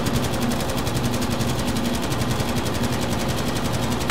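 Tank-mounted machine gun firing in Battlefield V, from a Tiger tank, a steady unbroken stream of rapid shots, loud and close, with no talking over it.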